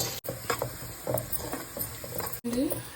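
Sliced onions sizzling in hot oil in a pan for Bhimavaram-style prawn biryani: a steady crackling patter under a voice, with two short clicks breaking the sound.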